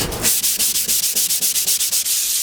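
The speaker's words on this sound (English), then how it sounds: "I'm grinding this off like this to have a smoother connection with the hull" A toilet float bulb being ground smooth with an abrasive, giving quick rhythmic rasping strokes, about a dozen evenly spaced scrapes in a couple of seconds, close and fairly loud with no talking.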